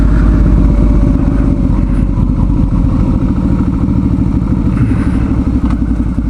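Suzuki V-Strom 650 motorcycle engine running steadily at highway cruising speed, a loud continuous mid-pitched drone with rapid firing pulses and some wind rush, no talking.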